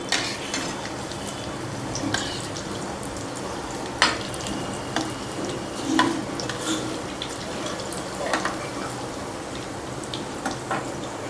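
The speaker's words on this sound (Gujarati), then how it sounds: "જ્યારે આપણે ખાવા હોય ત્યારે ફ્રીઝરમાંથી કાઢી અને પછી આ રીતે ફૂલ તેલમાં તળી લેવાના" Cheese chili balls deep frying in hot oil, a steady close crackle and fizz running throughout with a few sharper pops, no voices.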